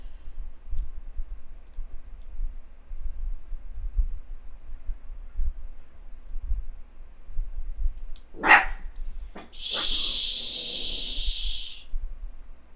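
A single sharp dog bark rings out close by, then a loud hiss-like shushing follows against a quiet background with low thumps.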